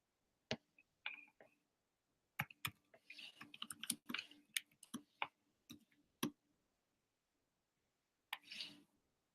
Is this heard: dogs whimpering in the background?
no